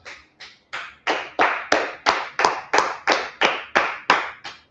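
A group claps together in a slow, even rhythm of about fourteen loud, crisp beats, close and with no talking between them.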